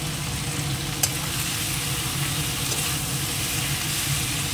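Spice paste of red chili, turmeric and coriander powder sizzles and fries in a hot pan, a steady close hiss with a faint crackle and no voices.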